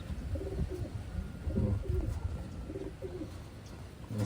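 Taiwan pigeons cooing in a loft, soft low throaty coos repeating in overlapping bursts from several birds at close range, continuous throughout with no talk.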